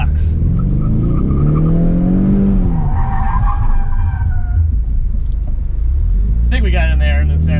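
A 2024 Ford Mustang S650 drifts into a box on a course, engine droning with tire squeal and rumble, while people talk over it throughout.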